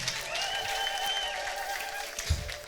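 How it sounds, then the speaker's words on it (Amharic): A church congregation claps together with the bright wavering trill of ululation over the top, a dense, lively burst of crowd applause lasting a few seconds. "ልልታ ጭብጨባ ለዚህ ጌታ።"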